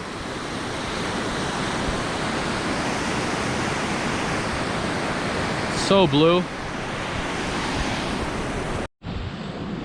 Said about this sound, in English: We're right on the river.